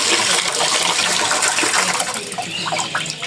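Water splashes and gushes loudly while things are washed, a close, busy pouring with scattered clinks and drips, and a faint voice is audible underneath.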